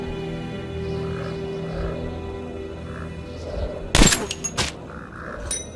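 A sharp, suppressed sniper rifle crack in Metro Last Light Redux stands out over a low droning game ambience, followed by a few short knocks and thuds.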